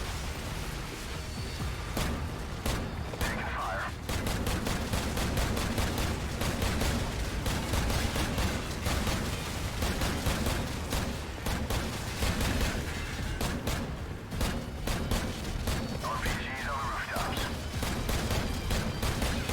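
Enemy gunfire in a Modern Warfare campaign mission, dense rapid shots crackling almost continuously for many seconds, loud and close, with a voice talking over it now and then.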